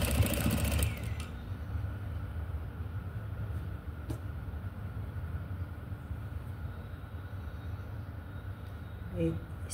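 A sewing machine stitches around small fabric scraps in a steady, continuous mechanical whir, loud and near, with a brief louder burst at the very start.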